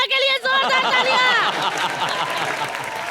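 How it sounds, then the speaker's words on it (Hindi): Loud, dense applause and crowd noise from a comedy show studio audience, cheering a Dharavi dancer nicknamed Prabhu Deva. Bright tonal cries rise over the clapping at the start, and the roar stays steady throughout. "और हमारे धारावी के प्रभु देवा के लिए जोरदार तालियां।"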